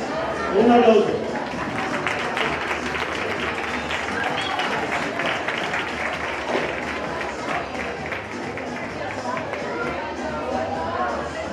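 Sustained clapping fills the hall at a children's carnival costume contest, mixed with crowd murmur and a brief voice near the start, holding at a fairly even level throughout.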